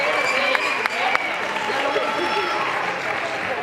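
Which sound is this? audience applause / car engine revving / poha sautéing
audience applause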